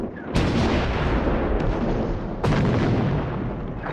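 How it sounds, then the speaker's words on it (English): Heavy artillery fire in a World War One battle: two loud booming blasts, one near the start and one past the midpoint, over a dense continuous roar of distant gunfire with no clear speech. "The heavy artillery made the Bulgarians crawl deep into their shelters."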